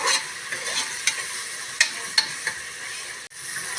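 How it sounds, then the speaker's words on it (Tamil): A spoon stirs mint leaves into a frying pan of egg biryani. A steady sizzle runs underneath while sharp scraping clinks of the utensil against the pan come every half second or so, close and clear. "கொஞ்சமாக முழுசாகவே புதினா சேர்த்துருக்கேன் இது நல்லா கலந்து விட்டுக்கலாம்"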